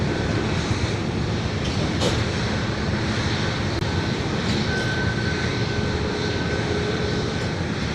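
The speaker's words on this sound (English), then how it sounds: "next takeoff is going to be flight 3258 to Tampa, a MAX 8" A Boeing 737 MAX 8 taking off from Dallas Love Field, heard as a loud, steady jet engine roar that holds constant throughout, with no talk.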